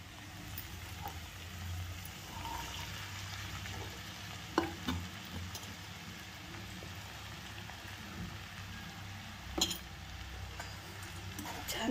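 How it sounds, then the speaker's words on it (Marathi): A potato mixture with ground coriander is stirred and sautéed in a pan, giving a steady soft sizzle and scraping with a few louder spoon knocks against the pan, close and with no talking. "छान परतून घ्यायचे."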